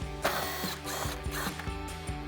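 A ratchet with a 10mm socket turns out fender flare screws on a Jeep Wrangler JL, giving a steady, close run of quick pawl clicks in a repeating rhythm, with no talk over it.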